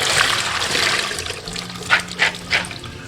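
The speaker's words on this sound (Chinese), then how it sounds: "我们先把花生清洗一下" Shelled peanuts get washed under running water from a tap, a close trickle with a few sharp splashing bursts toward the end.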